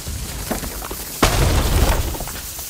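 In the Warzone Rebirth video game, an airstrike explosion bursts in loud and close after a few small thuds and pops, then a heavy low rumble rolls on and slowly tails off, with no talking.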